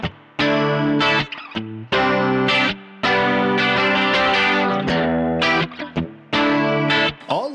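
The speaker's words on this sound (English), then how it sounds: "Makes the sound of the chorus brighter." Electric guitar through a Sonicake chorus pedal with the tone control raised for a brighter shimmer; several loud, close chord strums with brief gaps between them carry a wavering modulated sparkle.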